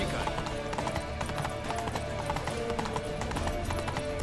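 Rapid rhythmic hoofbeats of a horse galloping in The Witcher 3: Wild Hunt, steady and continuous over dense game sound, with a player talking over it.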